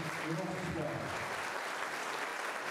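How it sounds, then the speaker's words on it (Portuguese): Audience applauds sports honorees at a commemorative ceremony, a steady wash of clapping heard a bit distant and soft, with some voice underneath. "Uma salva de palmas a vocês, homenageados do nosso esporte."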